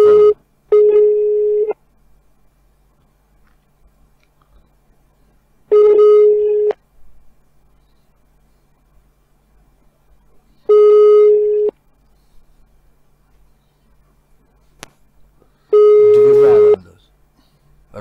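A telephone busy signal sounds while calling the Special Investigation Service office, four loud evenly spaced tone bursts separated by long near-silent gaps, with a voice only at the very end.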